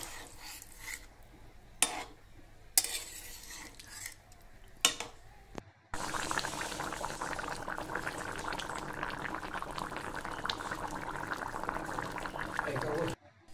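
Mutton curry boiling in a pot after water is added, heard as a loud, steady bubbling and simmering hiss. A few short clinks of utensils against the pot come just before it.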